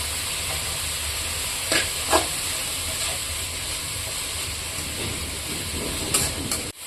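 Chopped onions and green chillies with a pinch of salt frying in a pan for godi rotti, giving a steady close sizzle with a couple of soft stirring knocks and no talking.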